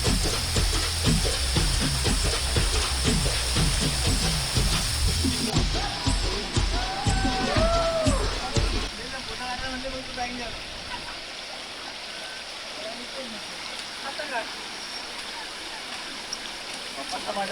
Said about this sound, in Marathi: हा धबधब्याचा फ्लो खूप सुंदर आहे